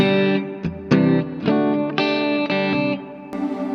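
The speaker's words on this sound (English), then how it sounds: "channel 1, my preset 1, is just a little bit of reverb off of the Big Sky" Electric guitar chords ring out with a wash of reverb from a Big Sky reverb pedal, played in a steady series of strums that sustain and overlap.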